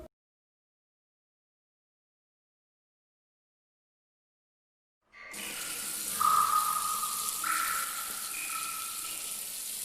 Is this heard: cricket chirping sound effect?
no